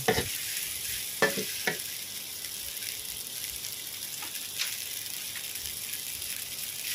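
Glass noodles stir-fried with egg in a hot pan give a steady sizzle, broken by a few sharp scrapes of the spatula early on and a softer one later, with no talking.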